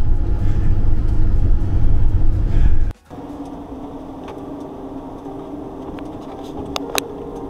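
Van on a road near the Mexican border, a loud low rumbling drone of driving that drops suddenly to a quieter steady hum, with a few faint ticks and clicks later on.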